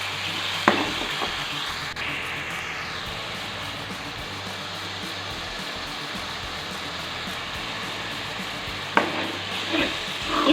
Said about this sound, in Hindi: इस तमाम पेस्ट को अच्छी तरह से भून लें ताकि इसमें से अच्छी सी खुशबू आने लग जाए